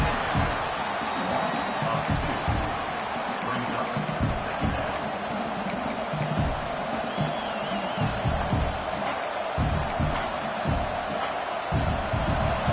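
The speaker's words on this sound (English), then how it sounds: "This crowd, full throat, spreading the eardrums and letting them know it's going to be a long day" Stadium crowd roaring in the college football video game NCAA 26, a full-throated, continuous cheer with whoops and swells, under a play-by-play commentator's voice.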